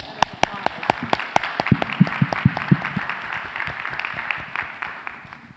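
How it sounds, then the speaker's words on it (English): Audience applause at a panel discussion, a modest group clapping with distinct, separate claps that thin out and fade toward the end. "applause"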